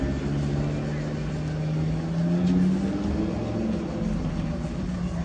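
An Audi R8 sports car passes on a street in Croatia, its engine a loud, steady drone whose pitch rises as it goes by amid constant traffic noise.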